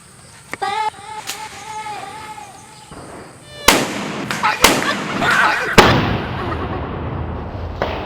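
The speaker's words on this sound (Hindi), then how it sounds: "बम फुटले" Firecracker bombs burst during Diwali celebrations: three sharp, loud bangs ring out close by in quick succession after a stretch of voices and buzzing, leaving a noisy crackling tail.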